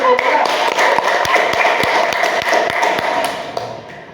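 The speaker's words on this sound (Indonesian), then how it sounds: "Tepuk tangan." Classroom applause during a microteaching practice lesson, a dense patter of students clapping at moderate distance, steady for about three seconds before tapering off.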